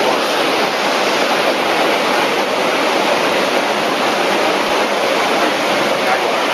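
Loud, steady rush of water pouring during a filter backwash at a water treatment plant, a dense continuous roar with no pauses through the whole stretch.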